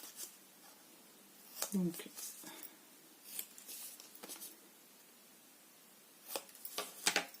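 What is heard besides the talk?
cutting small paper tabs at a bevel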